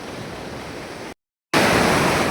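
The Ghod river in full flood after a water release roars as a broad, continuous rushing noise, broken by a brief silent gap before resuming louder.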